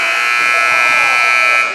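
A loud, sustained electronic buzzer blares continuously, flat and unbroken: a basketball game clock sounding at the end of a boys' JV game.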